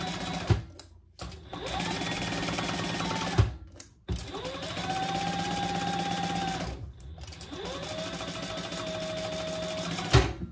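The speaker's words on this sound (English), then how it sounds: "sew those together with your full seam allowance" Sewing machine stitching a full-allowance seam on a handmade waist pack, running in three steady loud bursts separated by short pauses, close and alone with no talk.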